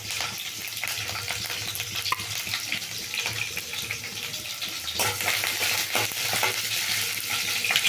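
Green chilies, cut lengthwise, frying in oil in a pan: a continuous, fairly quiet hissing sizzle with occasional stirring scrapes and no voices.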